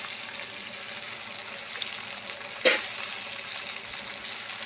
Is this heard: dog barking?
no